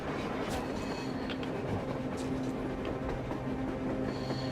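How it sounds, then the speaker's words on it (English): Steady rumble and rattle of a train approaching on the surface in the Metro Exodus video game, a dense continuous roar with faint metallic clatter, moderately loud, with no voices. "A train! A damn train on the surface!"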